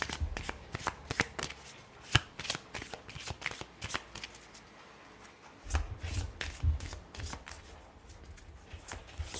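Tarot cards being shuffled by hand, a steady run of soft riffling and flicking taps that comes and goes, close up with no talking.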